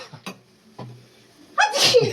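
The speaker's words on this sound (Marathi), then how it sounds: "असा शिंका येत राहणार, चांगला तडका भेटला तर." A single loud, close sneeze bursts out near the end, set off by the pungent fumes of a spicy tempering for katachi amti, after a few soft breaths and small kitchen noises.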